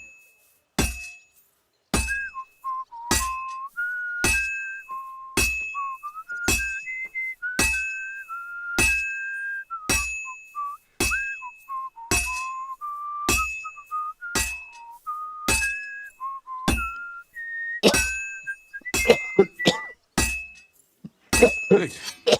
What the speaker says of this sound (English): Henry actually whistled through the full song this time